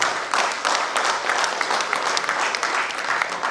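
Loud, sustained applause fills an Urdu poetry mushaira hall at JNU as a crowd claps continuously and densely, with a voice faintly audible beneath it.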